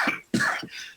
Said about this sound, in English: I got a cough for a moment